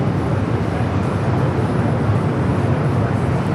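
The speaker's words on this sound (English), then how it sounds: "Polish Airlines, the Dreamliner heading back to Warsaw." A LOT Polish Airlines Dreamliner jet bound for Warsaw passes near LAX with a continuous, loud engine roar that stays even throughout, with no one talking.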